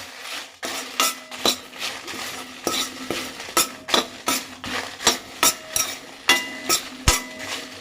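Dried red chillies frying in a pan for a Rayalaseema-style beef chilli powder, a spoon scraping and clinking against the metal in a steady stirring rhythm over a continuous sizzle, close and clear with no talking.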